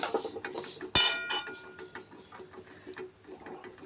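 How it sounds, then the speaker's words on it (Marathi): Rice for chakli flour being dry-roasted in a pan, six bowls' worth, with clinking and scraping of a utensil against the pan, a sharp clatter near the start, then soft rustling and light taps throughout. "आता हे मी भाजून घेणार आहे हे बघा आता भाजायला घेतलेलं आहे"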